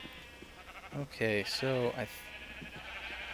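Sheep in the Minecraft video game bleat twice in quick succession, wavering and fairly loud, against a low game background hum, while someone briefly speaks just before them.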